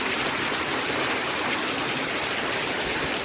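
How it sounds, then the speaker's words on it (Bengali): Heavy rain falls in a dense, steady roar that holds even and close throughout, with no voices over it. "কি হারে বৃষ্টি হচ্ছে আমাদের এখানে"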